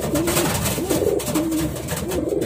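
Pigeons coo close by in a few repeated, rolling phrases, loud and clear with no talking.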